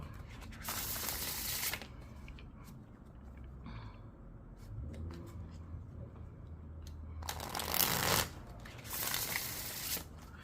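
Tarot cards being shuffled and pulled, two bursts of crisp riffling near the start and end, with softer sliding and handling sounds between them.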